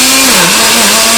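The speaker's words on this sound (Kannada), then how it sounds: "ಈಗ ಇದು ಗ್ರೈಂಡ್ ಮಾಡ್ಬಿಡೋಣ." A mixer grinder grinds soaked rice into batter with a loud, continuous motor whine that wavers slightly in pitch throughout the short stretch, heard close and alone.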